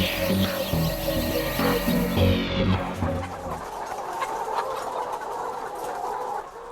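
Laying hens cluck on an egg farm with stacked, apartment-style cages. A dense chorus of clucks and squawks fills the clip and gradually thins into scattered calls over a hum.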